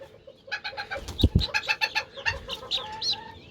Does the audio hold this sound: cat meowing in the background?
no